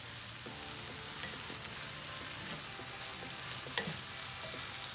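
T-bone steaks frying in oil in a pan: a steady close sizzle with faint crackles and a few soft scrapes and taps, no voices.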